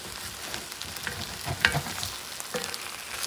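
Puerto Rican arroz con pollo simmers in a pot while a spoon lifts and drops the grainy rice, giving a soft continuous sizzle with a few light scraping clicks, close and fairly quiet.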